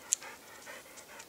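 A dog pants softly during gun dog training outdoors, a quick run of faint, breathy huffs in steady rhythm, with one sharp click near the start.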